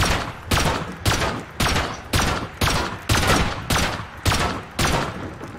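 Single gunshots fired one at a time in the game Rust, about ten sharp loud reports spaced roughly half a second apart, each trailing off before the next.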